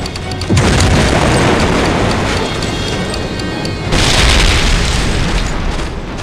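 German 88 guns blow up in a Medal of Honor Allied Assault mission in North Africa, two heavy booming blasts with rumbling debris and crackling fire in between, loud and close.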